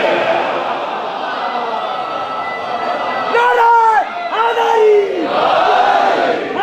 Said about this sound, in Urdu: آپ نے نعرے بھی لگا دیے